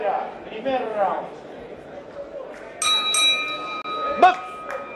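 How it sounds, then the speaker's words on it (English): Two bright metallic strikes of a boxing match's opening bell ring out with a lingering tone, in between bursts of announcer speech and arena chatter. "So the opening bell sounds"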